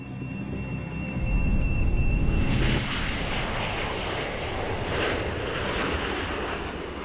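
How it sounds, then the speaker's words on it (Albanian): An airplane flies through the air, heard as a broad, continuous roar that swells for a few seconds and then settles into a steady rushing wash with no voices. "avioni lëviz në ajër, lë pas vorbulla ajri."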